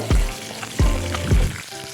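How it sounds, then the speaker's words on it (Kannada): Peanuts roast in hot oil for garlic rice, a close, continuous sizzle broken by three sharp scraping stirs of a spoon against the pan. "ಶೇಂಗಾ ಇದು ಸ್ವಲ್ಪ ಚೆನ್ನಾಗಿ ಹುರಿಲಿ"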